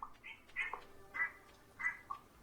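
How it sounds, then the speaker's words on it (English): Ducks quack in the Stardew Valley video game, three or four short nasal quacks spaced about half a second apart, faint and thin against a quiet background. "I love how I can hear the quacks on my end just bleeding through."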